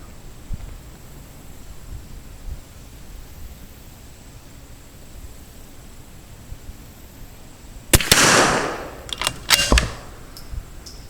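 A single rifle shot at a target cracks out sharply and close after several seconds of quiet, followed by a brief flurry of clicks and rattles from the gun.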